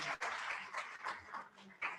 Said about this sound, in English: Let's give ourselves, the Alliance, a round of applause.